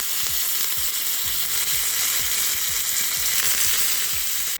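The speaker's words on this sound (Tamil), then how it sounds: "இப்போ ஒரு தாளிப்பு கொடுத்துக்கலாம்." Steady crackling sizzle of cumin seeds and curry leaves frying in hot oil for a tempering, close up and continuous, with no voices.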